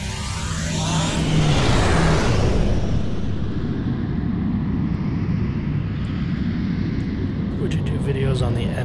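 Quantum slipstream drive engaging on a starship in Star Trek Online, a loud, steady engine roar that swells and then holds as a dense whooshing rumble, with faint tonal blips near the end.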